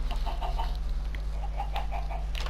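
Chicken on a farm in the video game Minecraft clucking in several short soft bursts over a steady low hum, with no talking.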